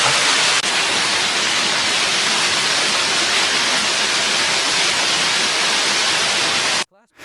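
Waterfall beside a forest cabin among ancient woods, a loud constant broadband rush of falling water that continues unbroken for several seconds, then cuts off abruptly near the end.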